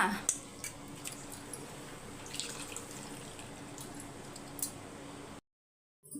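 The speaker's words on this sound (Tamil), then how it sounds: "புளி தண்ணி ஊற்றிக்கோங்க" Tamarind water is poured steadily into a pot of cooked rice, a continuous splashing trickle at moderate distance that cuts off abruptly near the end.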